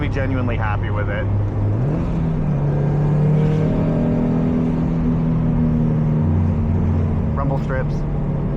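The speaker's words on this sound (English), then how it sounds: "Rumble strips." A 2006 Subaru STI rolls over rumble strips, giving a steady low droning rumble from the tyres and body that holds for several seconds, mixed with road and engine noise inside the car.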